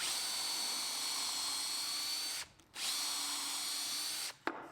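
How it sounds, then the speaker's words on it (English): Close, loud whine of a power drill with a 4mm bit running continuously through wood, pausing twice briefly before restarting, with no voices. "So I'm using a 4mm drill."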